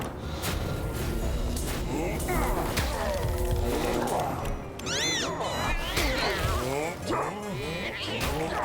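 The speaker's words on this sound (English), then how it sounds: "Come on, cat, do your thing." Summoned cat in Don't Die, Minerva! gives repeated meows and yowls, rising and falling cries scattered over busy game sounds and continuous talking.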